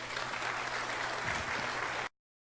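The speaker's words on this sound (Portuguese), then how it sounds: "uma salva de palmas" An audience at an agricultural conference panel breaks into applause, a steady wash of many hands clapping that holds evenly for about two seconds and then cuts off abruptly.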